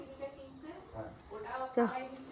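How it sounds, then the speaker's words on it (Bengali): Crickets chirp at sunset in rural Sreemangal, a faint steady insect trill running through the whole short stretch, with a few soft voices and tonal background sounds over it. "ঝিঝি ডাকতেছে দেখো"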